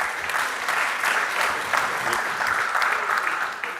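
A crowd applauds steadily throughout, a dense, even patter of clapping hands at moderate loudness.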